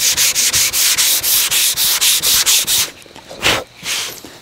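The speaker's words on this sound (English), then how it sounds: "So with this block, just light pressure, right? I want the block to do the work. And I am just scuffing this surface" A sanding block scuffs primer on the body of a Chevy short box 4x4 truck, making rapid, even back-and-forth rasping strokes, close and loud, before slowing into a few looser scrapes.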